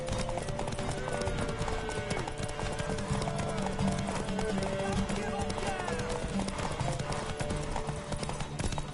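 Hooves clip-clop steadily as a horse gallops in The Witcher 3 video game, loud and continuous under game music and spoken character dialogue.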